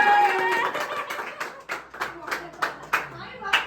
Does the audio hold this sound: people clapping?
yes